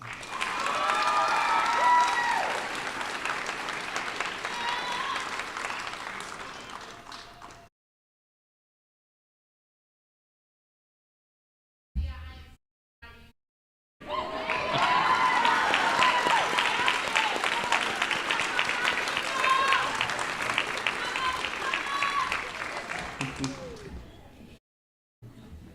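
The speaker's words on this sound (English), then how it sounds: "Could we please have one more round of applause for our graduates?" Applause for graduates at a school district's online academy graduation ceremony: a sustained burst of crowd clapping, then a gap of near silence with a few brief sounds, then a second long round of clapping that fades out.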